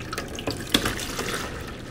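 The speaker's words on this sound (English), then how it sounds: "that's what splashed when I added it to my bowl" Heavy cream pours and splashes into a bowl, a short watery stream with a few soft splashes and drips, close and fairly quiet.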